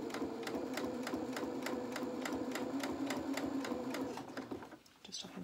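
A sewing machine stitches a seam on small boxer shorts, running steadily with a regular rapid needle rhythm close by, then slowing and stopping near the end.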